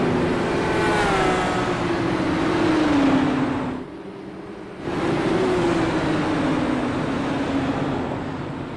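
Indy cars on a pace lap at Watkins Glen in a racing game, a steady engine drone with a gliding pitch as the cars run past, briefly dropping away before resuming, with no talk.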